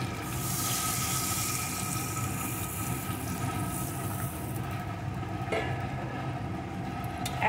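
Warm water poured into a pan of potato and pakora curry, a steady broadband rush of pouring liquid that runs continuously and fairly loud for several seconds before easing slightly.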